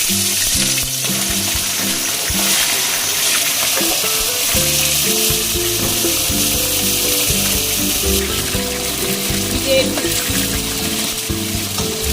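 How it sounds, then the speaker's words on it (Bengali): Steady, loud frying sizzle as spice paste fries in hot oil in a wok, with occasional stirring and scraping, continuing throughout without a break. "এখন ফ্রাই করতে দিচ্ছি কড়াইতে, গরম হয়ে গেছে তেল।"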